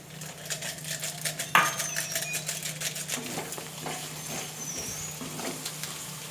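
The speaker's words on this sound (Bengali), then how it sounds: "টক দই দিয়ে আরেকটুখানি ফ্রাই করে নেব" Soft steady sizzle of spices frying with sour yogurt (curd) in a pan, a quiet continuous crackle with a few faint clinks of utensils.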